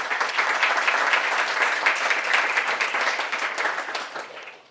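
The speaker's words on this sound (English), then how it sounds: "Let's give a round of applause for Rafael." Audience applause at a university debate on rent regulation, a dense, steady patter of many hands clapping that holds strong for about four seconds before fading out at the end.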